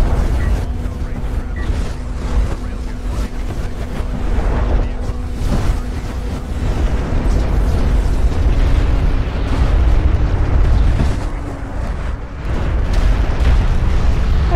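Artillery shells explode repeatedly in a Dune real-time strategy game, a dense run of booming blasts and bursts layered over a continuous rumbling battle din, with a voice talking faintly underneath.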